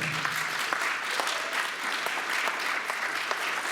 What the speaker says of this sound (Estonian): Aplaus Greta Evale.